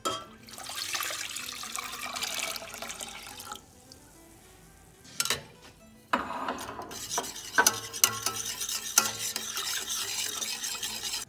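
Mirepoix vegetables sizzle and crackle in butter in a pan over medium-low heat while a utensil stirs them, with steady frying noise and a few clatters.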